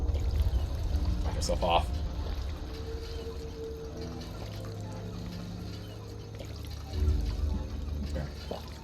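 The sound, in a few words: water pump pouring water in Fallout 4 video game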